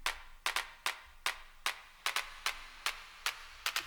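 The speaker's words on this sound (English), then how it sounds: "this other clap," Layered clap sample from an electronic dance track's build-up percussion, crisp dry claps repeating alone in a loose rhythm, sometimes doubled into quick pairs, close and clear.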